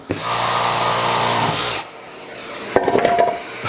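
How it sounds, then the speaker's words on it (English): Sandpaper rubbed over wood while building a sawbuck gives a steady, fairly close rasping scrape for about a second and a half. It stops, and then a few shorter scuffs and knocks follow. "So we can just use a little bit of sandpaper right here,"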